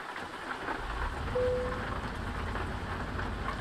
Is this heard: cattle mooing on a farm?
no